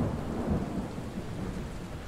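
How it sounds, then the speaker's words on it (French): Heavy nighttime rain pours down with a low rolling rumble of thunder in the video game Dying Light, a dense steady wash of sound with no voices. "il pleut comme vache qui pisse, comme quasiment toutes les nuits à Arran"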